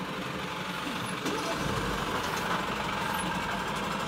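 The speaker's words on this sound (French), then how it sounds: "Il y a un camion là, il est en train de me faire une dinguerie." A truck close by outside gives a low, steady engine rumble that swells a little partway through and keeps droning on through the rest.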